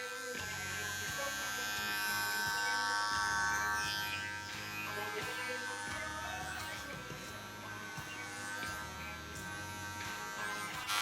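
Electric hair clippers with a number 2 guard, lever open, cutting a woman's hair, a continuous close buzzing drone that wavers in pitch and loudness as the blades move through the hair.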